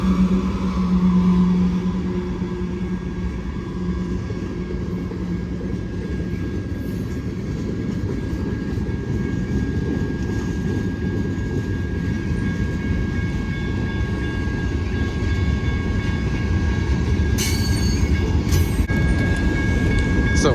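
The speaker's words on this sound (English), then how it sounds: "as this train goes by" A freight train rumbles steadily past on the rails at Sublette Avenue, a loud continuous roar with a faint tonal whine and a few sharp squeals toward the end.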